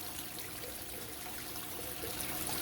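Steady rush of water pouring over an aquarium waterfall, a vigorous continuous flow with splashy trickling, close and even throughout.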